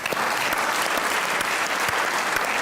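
An audience at a comedy show bursts into loud, sustained applause, a full and even roar of many clapping hands with a few sharper claps standing out, and no talking.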